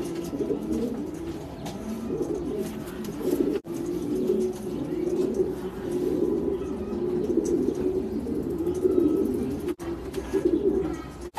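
Stahl strain racing pigeon cooing in a steady, continuous low murmur, with repeated soft coos layered close by and a few faint chirps over the top.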